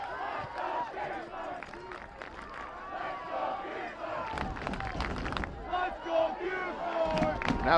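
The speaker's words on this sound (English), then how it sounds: "Go Hawks go, the chant from the Hopkinton crowd." Home supporters at a high school boys' soccer game chant in unison, a rhythmic crowd chant rising under a commentator's talk, with cheering swelling toward the end.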